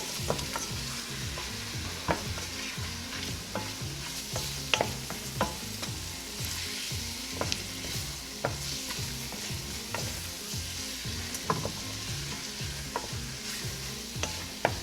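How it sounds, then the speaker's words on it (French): Flour stirred into a simmering sauce in a pan for peas in sauce: a spoon scrapes and taps the pan in an irregular rhythm over a continuous low sizzle, close and moderately loud, with no talking. "Et là, remuez comme il faut."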